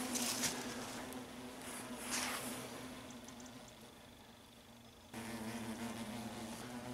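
Asian hornets swarming an attacked beehive at a woodland apiary in late October, a steady buzzing drone of many insects holding throughout, with a small rise in loudness near the end and no talk over it.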